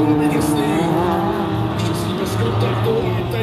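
An Opel Tigra rallycross car in the S1600 class races at Sedlčany, its engine droning loudly and steadily close by, with shifting pitch as it accelerates; a commentator talks over the noise throughout.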